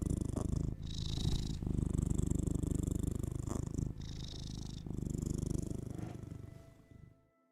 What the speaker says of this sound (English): Purr for them.